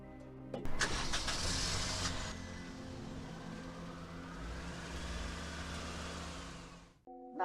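A car engine cranks and fires with a brief burst, then settles into a steady idle that rumbles on for several seconds before cutting off sharply near the end.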